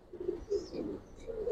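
Giribaz pigeon, a female of the Palla line kept in a loft, cooing in a few low, rolling bursts, close and moderately loud, with no talk over it.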